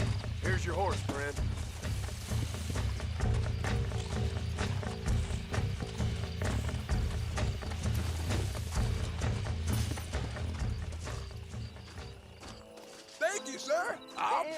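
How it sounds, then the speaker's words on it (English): Horse hooves clip-clop steadily in the Red Dead Redemption video game, a rhythmic clatter under game sound and voices, ending in quieter sound near the close. "Here's your horse, friend."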